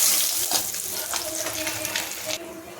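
Rohu fish pieces sizzle and crackle in hot oil in a pan, a steady close frying hiss with a few sharper spatters before it dulls near the end.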